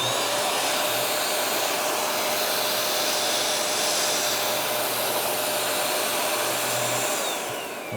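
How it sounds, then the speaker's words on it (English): A vacuum sealer pulls the air out of a bulk food bag, giving a loud, steady, unbroken whir that runs throughout and fades slightly at the very end. "I'm gonna pull the air out of it."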